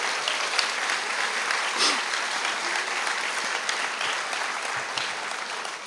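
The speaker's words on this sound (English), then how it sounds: "a round of applause, please, for the young journalists putting out the Chautauquan Daily." Steady audience applause at a lecture for young journalists at Chautauqua, dense and sustained throughout with no speech over it.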